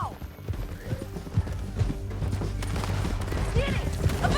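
Horse hooves gallop in Red Dead Redemption 2, a steady clip-clop rhythm under a busy mix of shouting voices, gunfire and action noise during a chase across bridges.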